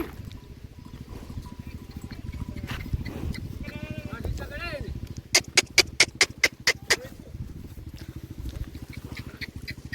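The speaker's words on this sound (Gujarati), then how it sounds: "ઢોર હાકીને આવે છે આ બાજુ ને ગાવું ભેવું આમ પાણી પીવે છે નદીમાં" Cattle and buffaloes are herded to a small village river to drink, with hoof clatter and animal sounds amid a steady low rumble, a burst of sharp rhythmic clicks or calls midway, and people talking throughout.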